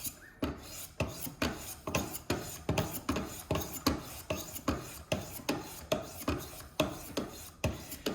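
A knife is drawn across 800 grit stones on a Wicked Edge Go sharpener in a steady rhythm of about two short, scraping strokes per second, close and fairly quiet, with no talking.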